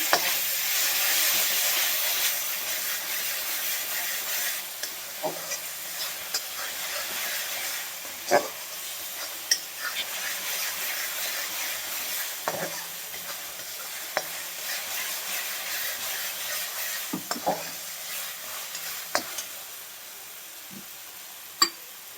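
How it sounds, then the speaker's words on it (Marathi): Garlic-ginger paste roasting in a pan on top of an already-fried onion-tomato paste for matar kheema, giving a steady sizzle with repeated stirring scrapes and clicks throughout. "आता याच्यामध्ये आपण लसूण आल्याची पेस्ट घालायची 2 चमचे. चांगली भाजून घ्यायची बघा."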